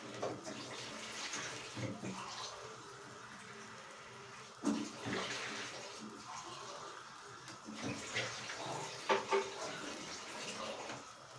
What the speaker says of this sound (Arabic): هضيف الميه بتاعتي، وهغطي عليه واسيبه لحد ما يتشرب خالص